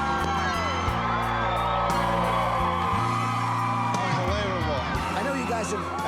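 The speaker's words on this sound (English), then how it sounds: "waved my hands, and they all start screaming." Crowd screaming and cheering at a home makeover reveal, a dense, loud roar of whoops and yells that continues throughout with no pause.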